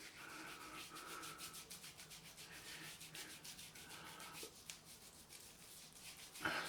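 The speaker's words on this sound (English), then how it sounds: "So this is the pre-shave. Make sure you rub it all into the follicles." Hands rubbing pre-shave into facial skin before a shave: a steady, soft rhythmic friction sound, close and quiet, with no talk.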